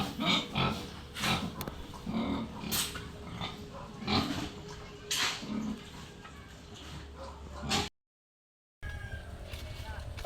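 Pigs grunt and snort in repeated short bursts nearby, with people talking in the background; the sound cuts out briefly near the end.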